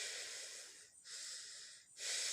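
Rhythmic imitated breathing, loud airy inhale-exhale cycles repeating about once a second, demonstrating how a breathing casualty sounds during first aid training.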